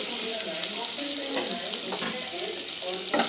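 Chopped raw onion with whole spices and bay leaf frying in hot oil, a steady loud sizzle with light crackles and occasional stirring scrapes.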